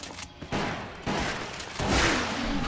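Shotgun blasts in the light-gun video game Resident Evil: The Umbrella Chronicles: three loud booming shots, each rising from a steady noisy game backdrop, with the last one the fullest.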